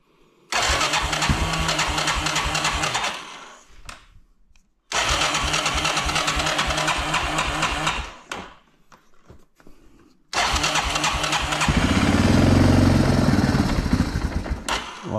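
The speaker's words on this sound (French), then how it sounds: "Ça confirme que le carburateur est sale parce que il veut pas marcher." A motorcycle engine with a dirty carburetor cranks loudly in three long bursts separated by short pauses, sputtering without catching, the last attempt heavier with a deep low rumble.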